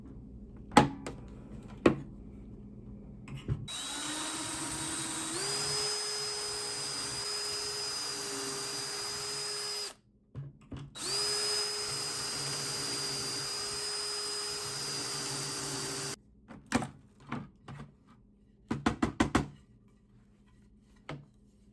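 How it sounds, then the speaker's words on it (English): A power drill boring pocket holes in wood with a pocket-hole jig whirs in two long sustained bursts, each several seconds, with short clicks and taps before, between and after. "then started drilling the pocket holes"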